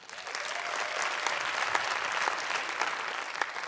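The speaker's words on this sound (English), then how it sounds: "By a round of applause." A comedy club audience breaks into dense, sustained applause, a steady wash of many hands clapping close by that holds for several seconds.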